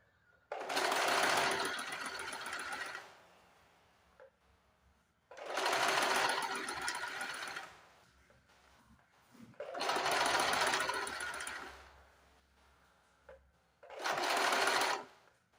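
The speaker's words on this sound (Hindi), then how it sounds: "ऐसे रख के हम चारों तरफ सिलाई लगा देंगे" An electric sewing machine stitches a sleeve onto a garment in four separate bursts, each a loud, fast, steady whirring run of a few seconds, separated by quiet pauses.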